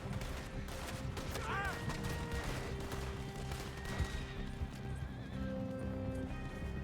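A horse in the video game Red Dead Redemption 2 gives a short, loud whinny amid steady galloping hoofbeats, with scattered gunfire and a busy chase soundscape around it.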